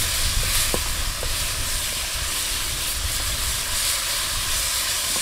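Outdoor cooking fire flaring up while seafood noodle soup is made in an open field, a steady broadband roar and hiss of flames and wind with faint pops, continuous and fairly close.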